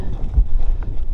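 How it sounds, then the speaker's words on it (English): Wind buffets the microphone on a mountain ridge on the Pacific Crest Trail, a short, loud, low rumbling gust with uneven surges. "Now we're on another ridge, windy."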